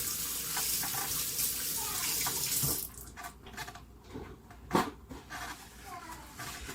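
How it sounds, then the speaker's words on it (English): Hands being washed under a running kitchen tap: a steady rush of water for about three seconds, then the flow stops, leaving light splashes, handling sounds and some talk in the background. "Now my hands, I'm going to wash them."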